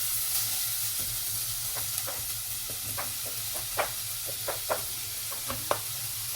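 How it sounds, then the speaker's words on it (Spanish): Onion and seasonings fry in hot oil in a pot, giving a steady close sizzle dotted with scattered sharp pops and crackles, with no talking. "Una vez echado el aceite en la olla, comenzamos a echar los aderezos."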